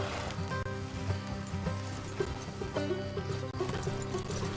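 Horses neigh and whinny over rhythmic clip-clopping hooves in Red Dead Redemption 2, layered with a steady game soundtrack and ambient noise.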